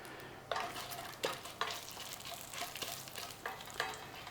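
Dried chilies sizzle and crackle steadily in hot oil for chicken jalfrezi, with a few sharp clinks of a spoon stirring the pan.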